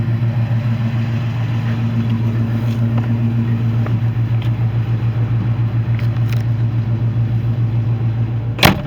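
A 1980 Jeep Wagoneer engine runs with a loud, steady, pulsing low drone that holds evenly throughout, ending with a sharp knock near the close, and no one speaks.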